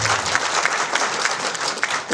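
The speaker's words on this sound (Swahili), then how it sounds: "naomba nisikie makofi mengi sana" An audience bursts into dense, sustained clapping, loud and continuous throughout.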